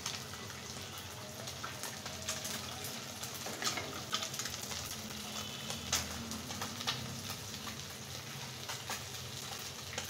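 Eggs fry in a pan for a cauliflower-potato egg curry, giving a soft, steady sizzle with faint crackles and light utensil taps, fairly quiet with no talking.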